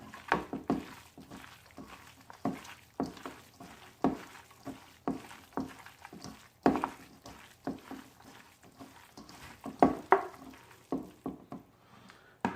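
Beef salad ingredients and sliced garlic are mixed by hand in a bowl, giving soft, moist squishing and tossing sounds in a steady irregular rhythm, close and fairly quiet.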